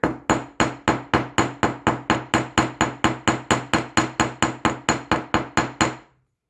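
Steady hammer blows strike a small metal heart charm to flare and widen it, about twenty sharp evenly spaced taps ringing close and loud with no talking.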